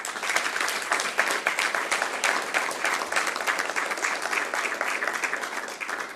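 Sustained applause from an audience closing a special session: dense, even clapping that holds steady at moderate loudness for about six seconds, with no voices over it.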